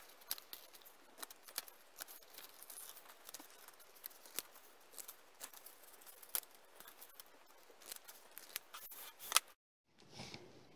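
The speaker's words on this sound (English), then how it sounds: "Then we get our pair of scissors." Scissors cutting out a paper shape for a paper chain, many soft, close snips in a steady irregular patter, quiet and alone, ending with a brief pause and a faint rustle.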